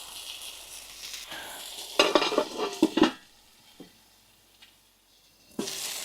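A burger patty sizzles in a pan with thinly sliced cheddar, a soft crackling hiss broken by a burst of utensil clanks and scraping in the middle, then quieter frying.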